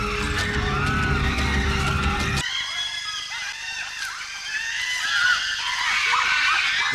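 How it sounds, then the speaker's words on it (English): Female chimpanzees shriek with excitement during a hunt for colobus monkeys, high piercing screams overlapping in a chaotic chorus amid forest noise, with a dense rumbling stretch giving way to sharper scattered cries. "Females scream with excitement."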